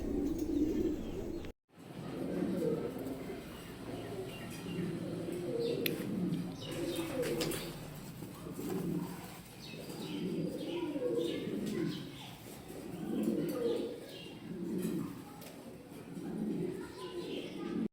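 Pigeons, a pair of large males at a bird sale, coo in repeated low rhythmic phrases with faint chirps and wing flutters, a person talking intermittently over them.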